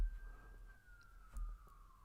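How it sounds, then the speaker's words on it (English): An ambulance siren racing down a street sounds as one long, faint, slowly falling wail in the distance, over low traffic rumble. "every once in a while you see an ambulance just racing down the street"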